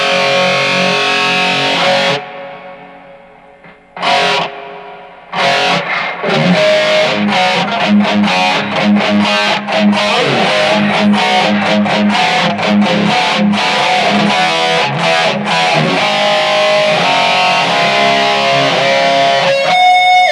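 An electric guitar with a distorted tone is played loud with a subtle delay effect, fast picked notes and held chords running continuously after a few brief pauses near the start.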